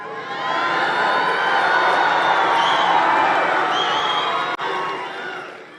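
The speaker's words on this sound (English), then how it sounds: "It's a very energetic crowd, isn't it?" A large crowd at a Trump rally in Saginaw, Michigan cheers and shouts loudly and continuously, a dense roar of many voices with whoops rising above it before it dips briefly near the end.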